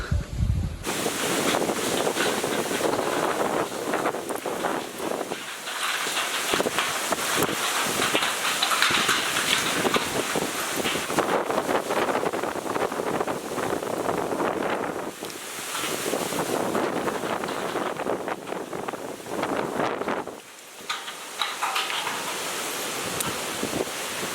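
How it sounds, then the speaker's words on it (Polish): Strong wind before a rainstorm roars and buffets the microphone for a long stretch, gusting in waves with brief lulls, loud and close. "bo już się silny wiatr zrywa"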